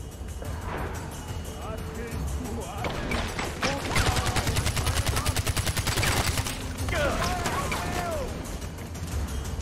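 Gunfire in the video game Far Cry 4, set in a mountainous area: sharp shots, then a long rapid automatic burst in the middle, with mechanical clatter around the firing.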